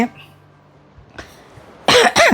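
A woman recovering from several days of cold gives two harsh coughs close by, a loud burst near the end after mostly quiet room tone.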